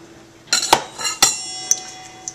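Cookie ingredients for chocolate coconut pecan cookies are tipped into a mixing bowl and stirred, giving a few sharp utensil knocks and clinks against the bowl amid soft scraping, close and fairly loud.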